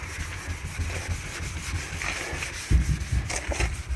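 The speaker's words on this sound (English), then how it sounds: "just started scrubbing here on the back" A cloth scrubs linseed oil into the oxidized blue paint of a 1946 Chevy, a steady close rubbing swish against outdoor wind, with a firmer scrape near the end.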